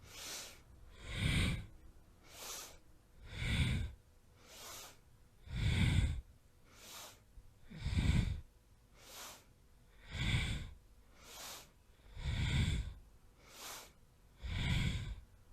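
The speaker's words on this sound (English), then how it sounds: "Breathing in and out through the nose." Slow, rhythmic nasal breathing during a Kundalini yoga warm-up, with about seven loud, close exhales alternating with softer inhales at a steady pace of roughly two seconds each, and no talk.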